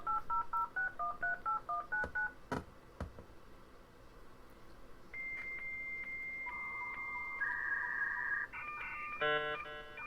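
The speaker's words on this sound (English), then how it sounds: "it's going to dial again" A WebTV modem dials out over the phone line: a quick run of DTMF tone beeps, then clicks, followed by steady and shifting modem handshake tones, close and without talk.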